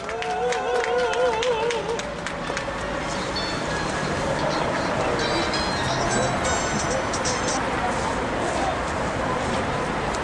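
An audience claps at a prayer rally, with broad, sustained applause lasting about ten seconds and a voice heard over it near the start.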